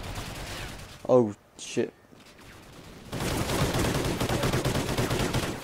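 Machine-gun fire in the Call of Duty: Ghosts campaign rattles on as a dense, steady burst in the second half. Before it, a man swears briefly over quieter game noise.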